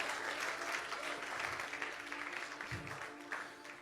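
A church congregation applauding during a worship service, steady dense clapping from many hands, somewhat distant and reverberant with a faint voice underneath.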